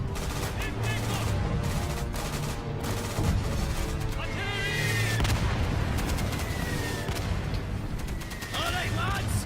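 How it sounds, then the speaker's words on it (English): Artillery barrage and gunfire in a war video game trailer, with dense, continuous booms and shots filling the whole stretch, loud and busy, mixed under music and shouted voices. "Request immediate barrage on objective Able."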